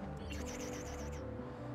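An eagle cries in Assassin's Creed 2, a single high, wavering call of repeated quick pulses that rises over low steady game ambience and then fades away.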